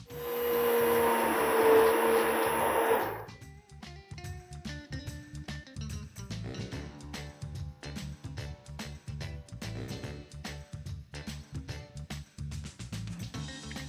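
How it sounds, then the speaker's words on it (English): A kitchen blender whirs loudly through broccoli paneer soup for about three seconds, then cuts off, and background music carries on alone. "We shall blend this and serve immediately."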